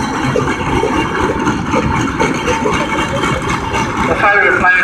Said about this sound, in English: The Ford plane engine, 1917,